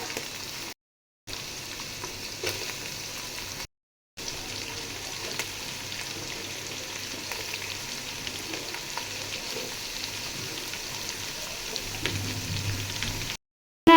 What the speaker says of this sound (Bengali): এখন আমি গাজর আর বরবটি কুচিটা ভেজে নেব।